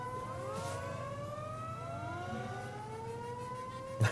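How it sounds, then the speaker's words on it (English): Wailing sirens in the strategy game Planetary Annihilation, several rising and overlapping tones that sound steady and moderately loud, ending in a brief thump. "I hear sirens."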